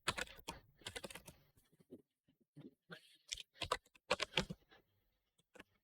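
Typing on a computer keyboard while writing in Notepad: bursts of close, crisp key clicks in irregular clusters with short pauses between, no voices.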